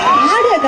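An audience at a Tamil song debate program in Katpadi shouts and cheers loudly, with whooping, rising and falling voices forming a close, excited crowd roar that lasts the whole moment.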